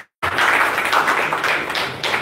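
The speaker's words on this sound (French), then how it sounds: "Applaudissons pour Papa Tani." An audience applauds for Papa Tani: a sudden burst of close, continuous clapping that stays loud and steady for about two seconds.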